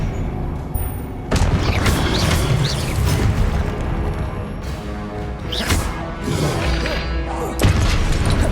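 Confringo fire spells burst with booming explosions during a Hogwarts Legacy battle, several heavy blasts and crashes landing over a dense, continuous clash of combat effects.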